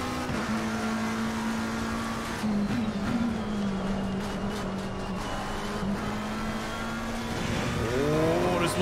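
Race car in a racing video game running a flying lap of Brands Hatch, its engine note droning steadily at high revs with brief shifts and a rising rev near the end, loud and continuous with no talk.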